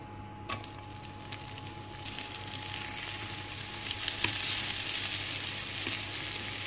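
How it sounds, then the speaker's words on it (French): Onions frying in butter in a pan, a steady low sizzle that grows slightly louder and brighter over several seconds, with a couple of faint clicks and no talking. "Donc je vais mettre à chauffer le morceau de beurre dans ma poêle. Je vais mettre mes oignons."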